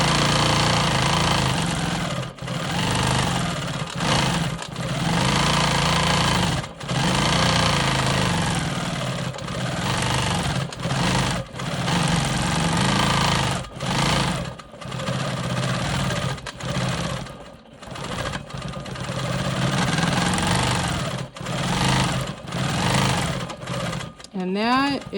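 Sewing machine running continuously during free-motion quilting of swirls on a star cross quilt block, a loud steady motor whirr with brief stops and restarts throughout, with a person talking over it.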